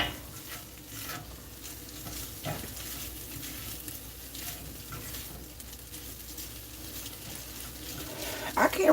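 Seasoned food cooking down in a pan to drive off moisture, a continuous soft sizzle and bubbling with occasional stirring, somewhat watery in tone and steady throughout.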